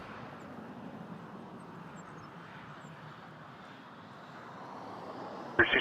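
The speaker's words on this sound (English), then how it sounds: "Next up is a A319 to Fort Lauderdale," Air Canada Rouge Airbus A319 jet on the runway at Toronto Pearson, a steady broad engine roar held at moderate distance for several seconds, ending in a sharp louder burst.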